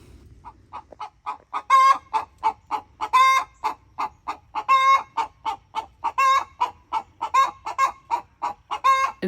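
Backyard chickens clucking close by, a rapid, rhythmic series of short clucks with a few louder, drawn-out squawks mixed in over a quiet background.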